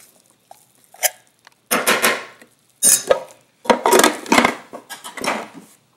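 A spoon scrapes and knocks against a container while stirring cooked meat pieces for shami kabab, giving several irregular bursts of clattering and scraping separated by short pauses.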